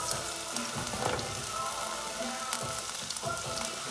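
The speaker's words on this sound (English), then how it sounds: "Now I'm going to take the garlic and onion and put it in the sizzling bowl" Garlic and onion crackle and sizzle steadily in a hot pan, a constant frying hiss with scattered pops and clinks close up.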